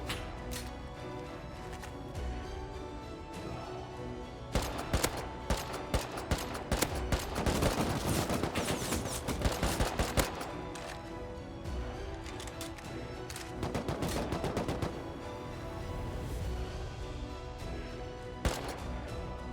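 AK rifle fire in an online shooter game sounds as repeated sharp bursts and single shots over a steady game backdrop, heaviest in the middle, with no talk.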